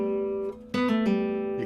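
Electric guitar pull-off played fast, bright sustained plucked notes with a quick drop through a clearly sounded middle note, alone with no talking.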